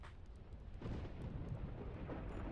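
Thunder rumbles in the video game Black Mirror 2 during a rainy night scene, a low, rolling roar that swells after a quieter start and stays heavy to the end.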